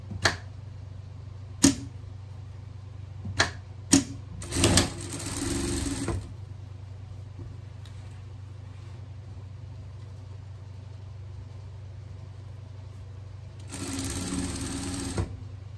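A sewing machine stitches a seam on a vest, with several sharp clicks and taps, then a short whirring run, a quiet stretch and a second steady burst of stitching at the end.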